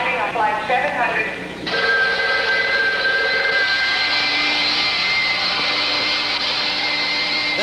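A jet airliner arriving in a TV show sound effect, with a sudden loud rising whine and roar that cuts in after a short stretch of talk and music, then holds steady and sustained.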